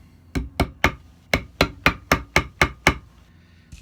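Ten crisp, evenly spaced taps from a Teflon-tipped hammer seating a fret into a cigar box guitar fretboard, close and clear with no talk.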